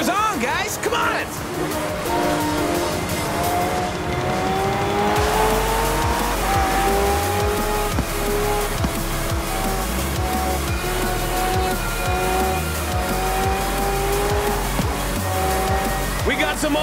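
Racing trucks and hypercars in Forza Horizon 4 tear past in a loud, continuous roar with squealing tires and skids, while a crowd cheers and a voice talks throughout.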